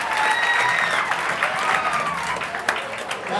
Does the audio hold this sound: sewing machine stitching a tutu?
no